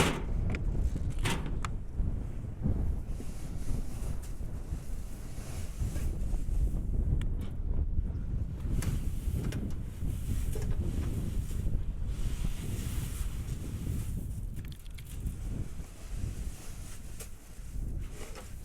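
Strong wind on a farm field roars continuously into the microphone, a steady buffeting rumble with gusty surges and no voices.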